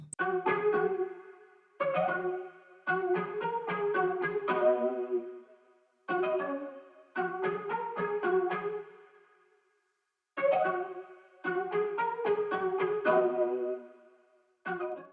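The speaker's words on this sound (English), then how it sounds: "we are using the vinyl guitar, and the preset is the harmonic plug lo-fi for vinyl guitar" Lo-fi vinyl guitar preset in a production, playing short plucked chord phrases in bursts separated by brief silences, soft and warm, alone without talk.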